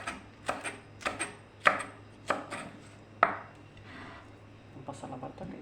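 A knife chops tomato and bell pepper on a cutting board in sharp, close, evenly spaced knocks that then give way to a quicker run of light taps, with no talking.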